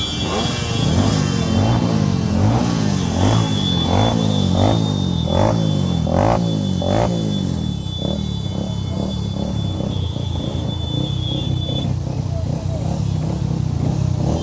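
Motorcycle engines rumble and rev steadily throughout a Hindu Samajotsava bike rally in Chikkaballapur, a continuous loud drone with throttle surges, while people talk over the engine noise.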